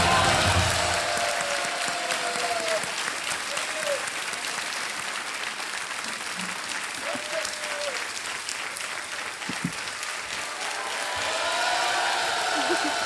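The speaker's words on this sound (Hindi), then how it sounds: "तालियां बज जाए इनके लिए।" Studio audience applauding on a Hindi television quiz show, a sustained wash of clapping from a large crowd that swells at the start and again near the end, with a host's voice briefly heard over it.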